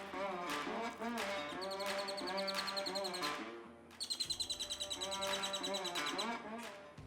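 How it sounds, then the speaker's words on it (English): Birds chirp outdoors in a rapid, bright series of tweets and trills, loud and near, with a voice speaking underneath. "What that bird said"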